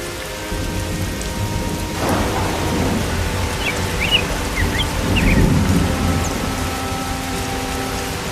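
Cartoon rain pours steadily while a deep thunder rumble rolls in near the start and another swells later, with a faint tonal hum running underneath and no talking.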